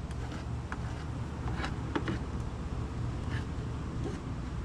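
Honey bees from a hive under inspection, a steady low buzzing drone throughout, with a few faint scrapes and clicks over it and no talk.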